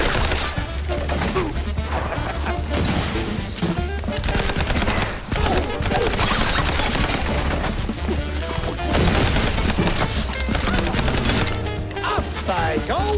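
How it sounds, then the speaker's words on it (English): Gunfire and crashing impacts fill a busy Mouse P.I. for Hire video game fight, with dense, loud bursts of shots and smashes running almost continuously over game music. "Buddy, this is a gunfight."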